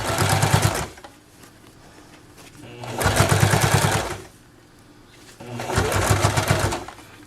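A sewing machine stitches a small wallet in three bursts of rapid, even whirring, each about a second long, separated by short quiet pauses, close and clear with no one talking.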